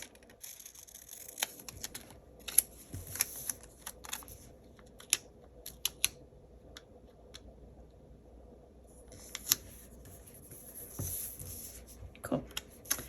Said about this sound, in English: cut around this.